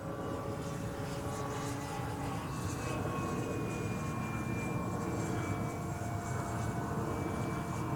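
An H-King Yak-11 RC model airplane with an electric motor flies at full speed with a steady, droning whine. The pitch shifts slowly as the plane passes, over constant wind and outdoor noise, with no voices.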